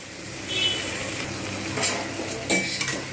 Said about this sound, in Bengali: ভালো করে নেড়ে নিয়েছি বেশ কিছুক্ষণ ধরে